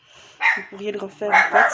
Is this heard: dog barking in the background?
yes